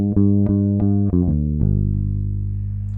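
Starling short-scale electric bass played through its back pickup alone, a few plucked notes in quick succession ending on one sustained low note that slowly rings out, close and clean with no voices.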